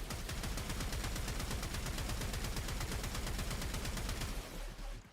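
Rapid, continuous automatic fire from the Code of Bubonico dart weapon in Warframe, a dense stream of sharp shots at a steady fast rhythm that runs loud for about four seconds before cutting off.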